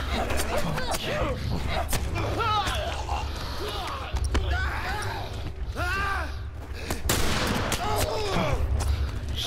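Gunfire from The Last of Us Remastered rings out in repeated bursts throughout, loud and close, mixed with game effects and a player's voice talking over it.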